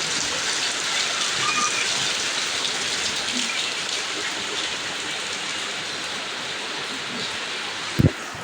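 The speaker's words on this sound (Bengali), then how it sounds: "ভালোই বৃষ্টি হইতেছে" Heavy rain falls in a steady, dense hiss during a storm, loud and continuous throughout, with a single sharp knock near the end.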